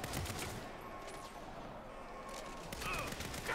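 Gunfire rattles in the Saints Row game during a prison break shootout, a steady fusillade of fairly faint shots running through the whole stretch, with a brief voice in the mix.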